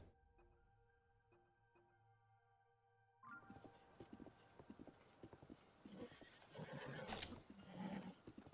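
A horse in the video game Zelda: Tears of the Kingdom, steady clip-clop hoofbeats with a whinny, first alongside tinkling game tones, then louder galloping and rustle.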